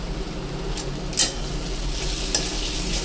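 A spoon stirs garam masala and coriander powder into a simmering gravy for veg Kolhapuri, a continuous close sizzle with a couple of brief scraping accents and no talking.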